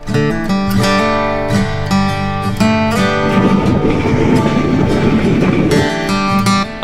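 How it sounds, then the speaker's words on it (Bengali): The Kopotakkho Express, a Khulna–Rajshahi passenger train in Bangladesh, runs loudly on its rails with a steady rumbling roar, strong ringing tonal whine from wheels and carriage, and periodic metallic clatter, heard close from on board. "আমরা এখন 12 বাজার রেলওয়ে স্টেশন থ্রু পাস করছি।"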